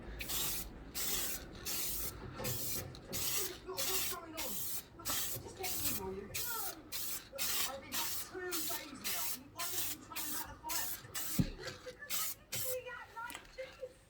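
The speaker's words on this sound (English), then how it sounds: "And I tend to spray it quite heavily, as you'll see." Heavy bursts of spray paint hiss out in a steady rhythm of short, loud blasts, one after another, each with a sharp airy onset.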